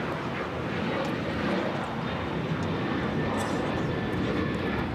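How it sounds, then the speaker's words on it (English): An American Airlines Boeing 737-800 taking off from LAX gives a steady, loud jet roar that holds for several seconds at middle distance, with faint background voices underneath. "This is American Airlines 1899 taking off to Indianapolis on the 737-800."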